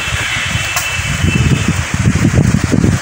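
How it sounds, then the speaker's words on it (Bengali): Strong gusty wind from a storm roars and rushes continuously through trees, with deep buffeting gusts and a steady hiss of shaking foliage, without rain. "পাগলা হাওয়া দিচ্ছে"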